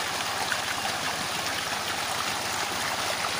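Water pumped by a motor pours into a small swimming pool in the middle of a field, a steady, close, broadband rushing flow with no pauses.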